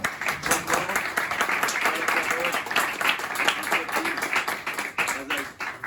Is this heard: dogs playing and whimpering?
no